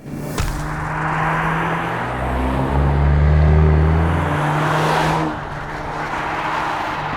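A Volkswagen Golf GTI Mk8 hot hatch drives on the road. Its engine drones steadily from inside the car, the pitch climbing under acceleration before easing back, with tyre and wind noise beneath.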